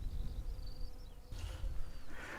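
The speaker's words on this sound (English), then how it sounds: "Oh, lots of nice little bees and things." Bees drone softly around a lavender field, faint intermittent buzzing passing by over a quiet outdoor background.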